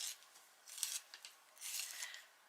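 Hand sharpener shaving a coloured pencil during colouring of a sweets and candy design, with two bursts of dry, close scraping and rasping separated by brief pauses and small taps.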